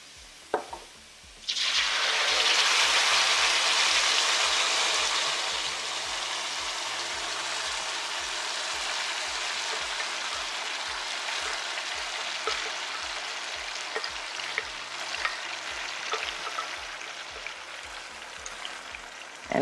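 Tomatoes dropped into a hot pan burst into a loud sizzle that settles into steady frying with occasional pops and crackles, a regular low ticking running underneath throughout.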